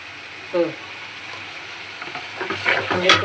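Spice paste of turmeric, cumin, green and dried chili, ginger and garlic is stir-fried for a prawn curry, giving a steady soft sizzle with scraping stirs growing louder toward the end, close up, with a brief voice near the start.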